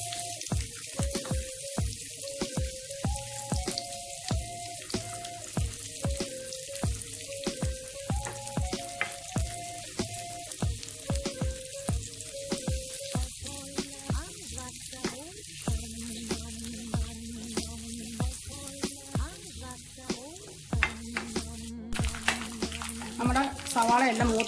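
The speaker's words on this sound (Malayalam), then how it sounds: "നെയ്യ് നന്നായി ചൂടായിട്ടുണ്ട്. നമുക്ക് സവാള അങ്ങോട്ട് കൊടുക്കാം." Sliced onions fry in hot ghee for chicken biryani, giving a steady close sizzle with repeated stirring scrapes and clinks throughout, and no talk over it.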